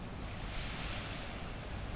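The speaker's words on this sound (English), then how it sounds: "The waves are huge as well." Ocean waves roll onto the beach of Hulhumalé, an artificial island in the Maldives, as a steady, broad roar of surf with wind buffeting the microphone.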